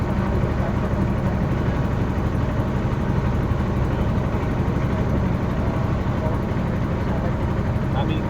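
A boat engine on a trip from Nila Bazar to the Purbachal bridge drones steadily and loudly throughout, a continuous low-pitched rumble with no breaks or spoken words.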